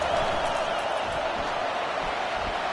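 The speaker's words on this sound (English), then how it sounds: "Listen to this crowd just shaking the girders of this place" Stadium crowd noise from a college football video game with Auburn playing, a dense, steady roar filling the space with no breaks, loud and continuous throughout.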